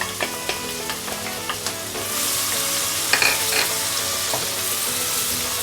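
Chopped onion goes into about four tablespoons of hot oil: a few light taps and crackles at first, then a sudden, louder, steady sizzle that keeps going.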